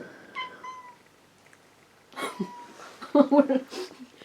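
A pet cat meows for its lunch, a few short calls near the microphone, the loudest burst toward the end, with faint household noise and human voices around it.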